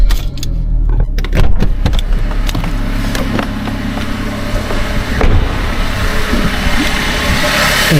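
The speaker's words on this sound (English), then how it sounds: "so we're going to start the car." A Suzuki Swift with a JATCO CVT7 transmission cranks and starts, then settles into a steady idle close by. A short jangle of keys comes just before the engine catches.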